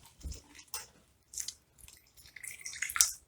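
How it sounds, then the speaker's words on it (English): Water poured onto a potted pothos plant indoors, giving soft irregular drips and splashes at close range with quiet gaps between them. "Let's water this one."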